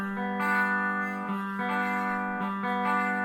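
A steel guitar slide bar held with too little finger pressure, giving a thin, buzzy, weakly resonating sustained tone with several soft re-plucked attacks, played alone.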